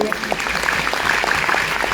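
An audience breaks into sustained applause at a motivational DXN business speech event, a dense steady clapping that fills the whole moment without pause.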